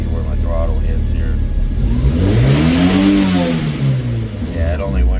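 A car engine, set up with a two-step launch limiter, revs up as the throttle is pressed, rising to a peak and then falling back, loud and close over a steady idle, with a voice talking briefly.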